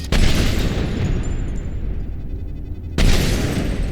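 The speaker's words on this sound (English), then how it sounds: "unless I can, like, shoot it out with my sniper rifle" A sniper rifle fires in Mass Effect 3 with a heavy booming report, followed by a sustained rumbling tail and a second loud blast near the end, no talking.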